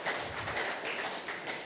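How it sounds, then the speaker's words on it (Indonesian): A church congregation applauds together, a steady wash of many hands clapping with no voices over it. "Yang setuju berikan tepuk tangan meriah buat Tuhan kita."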